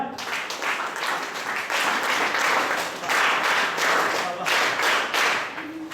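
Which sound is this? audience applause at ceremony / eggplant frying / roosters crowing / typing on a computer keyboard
audience applause at ceremony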